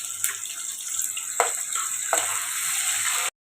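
Onions and green chilies frying in hot oil for a vegetable pulao, a steady close sizzle with a few sharper crackling bursts, then an abrupt cutoff near the end.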